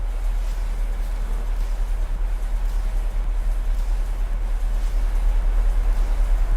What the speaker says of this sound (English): And you can hear that the engines are spooled back and you get that nice deep rumble.